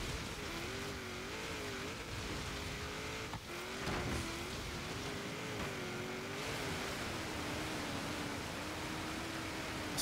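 A 1992 Mitsubishi Galant VR-4 in Forza Horizon 3 pulls hard under acceleration off-road. The engine drone is steady with a shifting pitch and a brief break partway through, and it plays alone at a moderate, even level.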